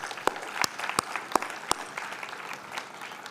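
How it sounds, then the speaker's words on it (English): An audience gives a round of applause at the Bharatheeyatha 2025 event honouring a former IAS topper, a steady patter of clapping punctuated by a few sharper, louder claps. "Let's give a round of applause for that."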